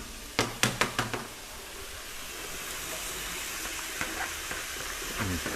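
Onion for lomo saltado hitting a hot pan with a few sharp knocks, then a steady loud sizzle of frying that carries on with occasional clinks of stirring.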